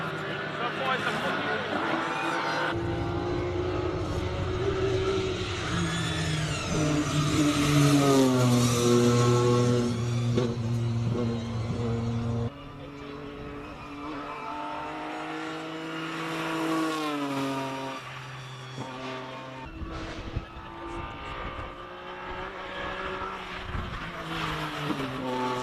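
BMW E46 M3 race car attacking a hill climb in Cape Town, its engine revving hard through rising and falling gears, loud and fairly close, with an announcer talking over it.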